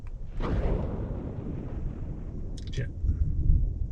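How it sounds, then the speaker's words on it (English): Thunder rumbles at a campsite during a truck camper trip, a low, rolling boom that builds and lingers for several seconds, with a voice speaking faintly alongside. "Thunder."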